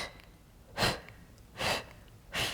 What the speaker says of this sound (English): Sometimes I like to kind of breathe long. Exhale.